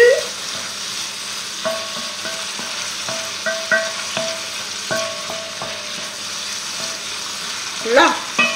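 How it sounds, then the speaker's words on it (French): Rabbit chasseur stew frying in a pan gives a steady sizzle while a spoon stirs and taps the pan in irregular clinks. A voice comes in briefly at the start and near the end. "on remue"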